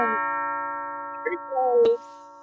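A doorbell rings indoors with a sustained chime whose tones hang and slowly fade. A short bright knock or click comes near the end while the ringing dies away.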